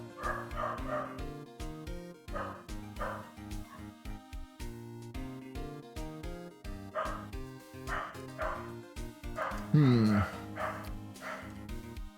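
Repeated dog barks, sharp and fairly close, come in irregular bursts with a brief whine near the end.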